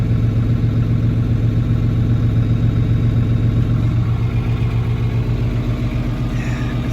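A tractor stuck up to its axles in a freshly ploughed muddy field, engine running: a loud, steady low rumbling idle throbbing continuously, easing slightly toward the end.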